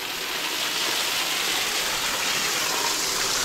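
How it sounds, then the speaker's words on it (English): Waterfall at Mountaineer Falls on the Appalachian Trail, heard from the space behind the falling curtain of water: a loud, steady, broadband roar with no breaks. "here we are inside the waterfall"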